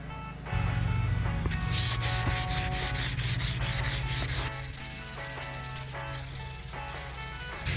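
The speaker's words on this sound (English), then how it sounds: "so I'm going to do that first and wet sand in a crosshatch pattern" Wet sandpaper scrubbed in a crosshatch pattern across a cloudy plastic headlight lens on an Acura TSX, making steady, close rhythmic rasping strokes that continue without a break and with no talking.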